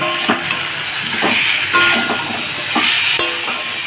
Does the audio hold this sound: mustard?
yes